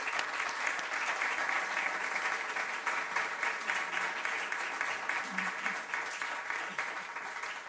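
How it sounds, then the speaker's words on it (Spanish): An audience at a lecture gives sustained applause, dense and even clapping from many hands throughout, with faint voices under it. "Muchas gracias y un aplauso para Paco Villanueva."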